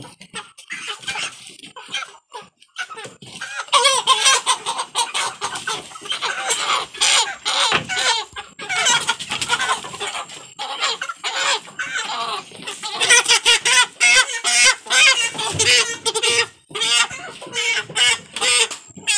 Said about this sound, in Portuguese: Vamos terminar aí de pegar os frangos